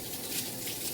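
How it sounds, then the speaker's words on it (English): Tap water runs steadily into a kitchen sink during handwashing, a close, continuous broadband gush with no pauses and nothing else audible. "So wash my hands."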